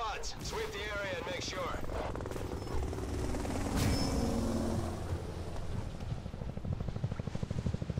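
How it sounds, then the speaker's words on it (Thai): A helicopter in the video game X-Men Origins: Wolverine gives a steady, rumbling rotor drone that holds throughout, with people talking over it. "เราจะเจอเฮลิคอปเตอร์อีกแล้ว"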